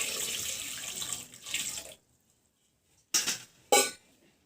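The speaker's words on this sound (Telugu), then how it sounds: "ఇప్పుడైతే దీనికి సరిపోయేంత కొంచెం నీరు అయితే పెట్టుకుందాము" Water pours into a clay pot in a splashing stream for about two seconds, then stops, followed by two short separate splashes after a pause, heard close and alone.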